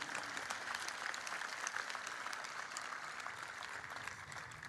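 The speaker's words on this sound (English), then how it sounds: "That's a hint for applause" An audience at an outdoor First Nations reconciliation ceremony in Nanaimo claps steadily, a dense, even wash of applause that stays consistent throughout and sounds fairly distant.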